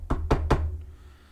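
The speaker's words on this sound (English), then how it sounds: "Knock on wood." Three firm knocks on wood, evenly spaced and close, each a short dull thud, followed by a quiet room tone.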